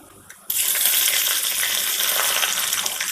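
Chillies hit hot coconut oil in a pan, setting off a sudden loud hiss that settles into a steady, close sizzle.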